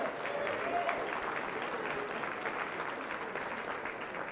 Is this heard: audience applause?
yes